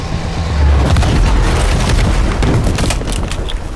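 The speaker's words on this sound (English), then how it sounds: "the explosion collides, making a protective layer, which means Arthur will be alright" An explosion in the video game We Happy Few starts with a loud, deep boom, followed by a rumbling blast and crackling debris that fade out over a few seconds. No one talks.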